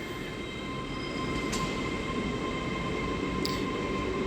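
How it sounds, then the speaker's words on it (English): A Great Western Railway class 802 train, unit 802112, pulls out of Reading station on a service to London Paddington, giving a steady, continuous rumble with tonal hum, faint squeals and no talk. "802112 on a Great Western Railway service to London Paddington."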